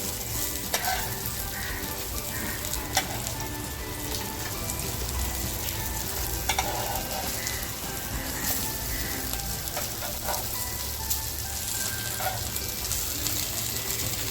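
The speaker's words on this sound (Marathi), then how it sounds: "तर बघा आपली मच्छी सुद्धा अशी छान फ्राय झालेली आहे" Surmai fish fries crisp in a pan, a continuous bright sizzle and crackle with scattered pops and occasional utensil clicks, close and steady throughout.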